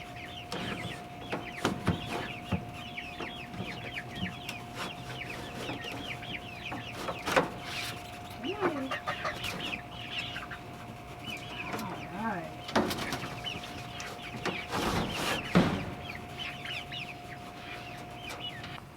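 Backyard hens cluck and chatter as they are let out of their coop, repeated close squawks and calls over a steady hum, with people talking quietly among them.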